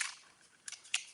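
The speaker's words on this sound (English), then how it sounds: "I'm just going to cut out a circle from this gorgeous grape." Scissors cut a circle from grape-colored cardstock, a close, crisp snip followed by two sharp, quick cuts near the end, alone in a quiet room.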